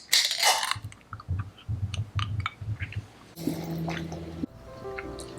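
A can of Liquid Death sparkling water opened and poured, with fizzy hissing, dripping and glugging liquid sounds, close-up and alone.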